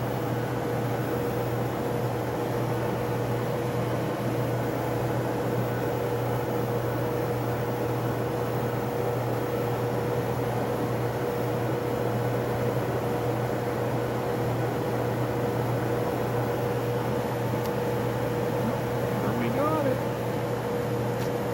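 An RCA TR-70 quad tape machine running after being plugged in: a steady, unchanging mechanical hum with a constant tonal drone and an airy hiss, continuous throughout.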